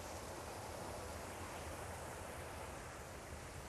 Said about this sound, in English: The water comes in there, and then it comes out over what we call a V-notch weir